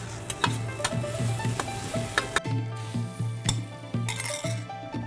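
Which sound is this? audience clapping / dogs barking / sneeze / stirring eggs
stirring eggs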